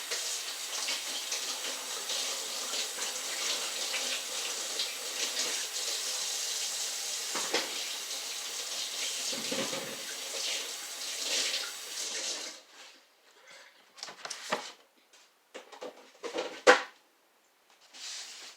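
A kitchen tap runs in a steady, close rush of water as hands are washed, then shuts off, leaving a few scattered knocks and clatters near the counter.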